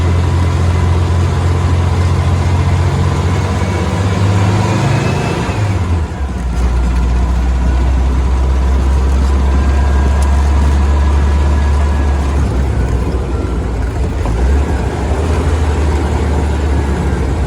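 A dune buggy engine drives through deep sand, giving a loud, close, continuous low rumble that drops briefly as gears shift, then settles into a steady hard-pulling drone.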